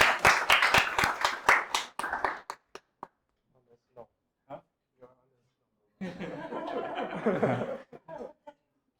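Brief applause for volunteers at a hacker house tech presentation, a burst of scattered clapping with some laughter and coughs, then a pause before talk resumes.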